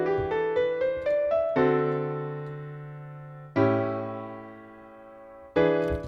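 Piano-like chords sound one after another, a quick run of short stepped chords followed by long sustained chords that ring out and decay, each new chord struck cleanly with no voice over them.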